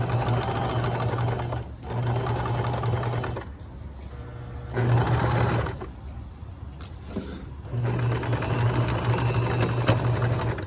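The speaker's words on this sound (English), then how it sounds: "I'm gonna sew a 1/4 of an inch around the curved edge" A sewing machine stitches a quarter-inch seam around the curved edge of a fly front facing, whirring loudly in long runs broken by short pauses and a sudden stop.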